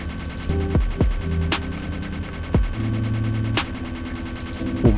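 Team Fortress 2 match gunfire with a few sharp, loud shots spaced a second or two apart over steady in-game music and ambience.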